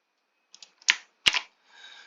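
A few keystrokes on a computer keyboard while entering a key and password, sparse light taps followed by two sharper clicks and a brief soft rustle, heard alone in a quiet room.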